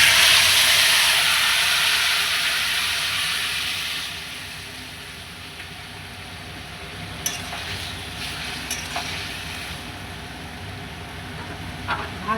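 Curry hits a hot pan of panch phoron with a loud hiss and steady frying sizzle that fades over several seconds, leaving a quieter simmer with a few faint clinks.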